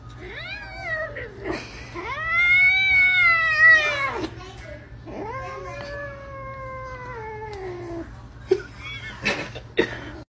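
A cat lets out several long, drawn-out meows, loud and wavering, followed by brief laughter and a few sharp sounds near the end.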